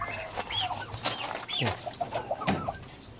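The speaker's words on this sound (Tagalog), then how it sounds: "Isa yung barako, tatlong barako, away-away." Roosters and hens on a backyard farm cluck and squawk in short, overlapping bursts at close range, with occasional rustling and a faint background hum.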